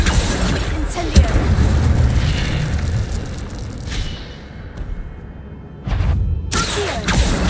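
Incendio fire spell blasts in the Hogwarts Legacy video game, heard as loud booming whooshes of flame, a sharp burst near the start, a drop to near quiet, then fresh blasts, with a voice calling out over the action.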